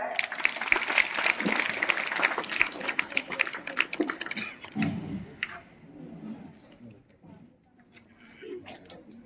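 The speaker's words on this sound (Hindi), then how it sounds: "तो एक बार इनके लिए जोरदार तालियां हो जाए" A school audience claps at a tribal pride day event, with fairly faint, busy applause for the first five seconds before it fades. Scattered sounds and murmuring follow.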